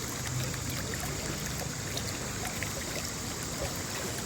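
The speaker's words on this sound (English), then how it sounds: "I've been drawn to this river." River water flowing, a steady, continuous broadband rushing and trickling at moderate distance, unchanging throughout with no talk.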